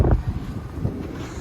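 Gusting wind buffets the microphone on a small tender boat crossing near Skagway, Alaska, with a strong low rumble that swells briefly at the start and then settles into a steady rushing roar.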